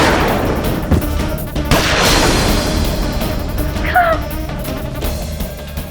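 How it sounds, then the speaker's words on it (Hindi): Several sharp gunshots crack out amid a dense, noisy scene, with a loud burst near the two-second mark and a voice calling out briefly. "बस गोली चलाओ, गोली"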